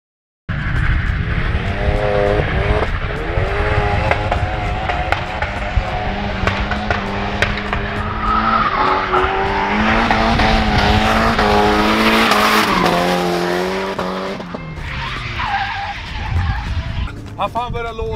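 Race car braking hard on a track with a locked wheel, sliding into long wavering tire squeals and skids over engine noise, with people talking throughout.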